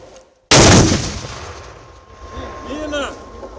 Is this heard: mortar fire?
yes